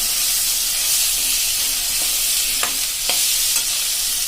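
Ridge gourd and green chili sambharo tempered with mustard and fenugreek seeds being stirred in a hot pan, a bright hissing sizzle with a few quick scrapes of a spoon near the end.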